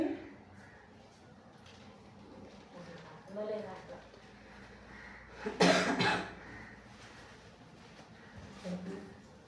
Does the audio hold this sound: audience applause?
no